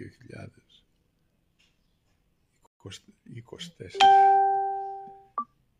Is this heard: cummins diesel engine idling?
no